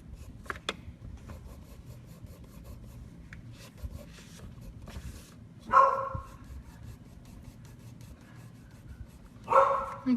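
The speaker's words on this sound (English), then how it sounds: "you've probably heard my dog bark before" A pet dog gives two loud, sharp barks several seconds apart. Quiet scratching of coloring on paper fills the spaces between them, and no one speaks.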